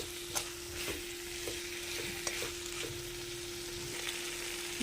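Fried brinjal pieces being stirred into a spiced tamarind-style gravy in a pan, with steady close scraping and stirring strokes over a constant bubbling sizzle, no voices.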